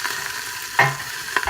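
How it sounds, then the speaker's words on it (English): Garlic with chopped basil and oregano stirred in a frying pan, a low sizzle broken by two or three quick scraping strokes, close and short. "Then you want to stir them around."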